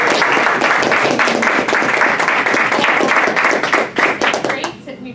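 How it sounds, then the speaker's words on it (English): Applause for a newly joined member at a speaking club meeting: dense, steady hand clapping from a room of people, loud and sustained before thinning out and fading near the end. "I want to give a round of applause to our very newest member of the club"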